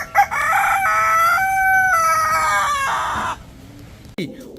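An American Silkie rooster crows loudly and close, one long drawn-out call with clear rising and falling tones, followed by quieter sounds and a brief cluck near the end.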